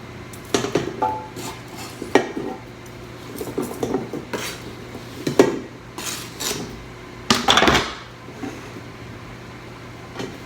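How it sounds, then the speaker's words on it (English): Potatoes are dumped into a cooking pot for homemade lentil soup, giving a series of clattering thuds and metallic clanks of pot and utensils, loud and close, in irregular bursts. "So these are the potatoes. I'm gonna dump them in the pot."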